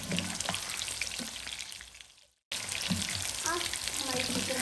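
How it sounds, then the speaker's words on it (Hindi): Chicken pieces fry in oil until light brown for a chilli chicken recipe, a steady close sizzle and crackle with a brief dropout midway and occasional soft stirring or clinks. "अब हम अपनी चिकन को लाइट ब्राउन होने तक ऑयल में फ्राई करेंगे।"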